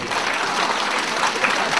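Dense, steady audience applause at a Delhi stand-up comedy and mimicry show, many hands clapping at once without a break for the full couple of seconds.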